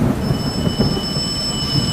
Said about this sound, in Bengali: বজ্রের গর্জন এবং বৃষ্টির পতন।